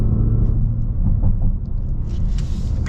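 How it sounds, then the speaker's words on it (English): A 2025 Jaguar F-Pace SVR exhaust gives a deep, close, continuous rumble, with a few faint crackling pops near the end. "Oh man, and you get the pops out of the exhaust."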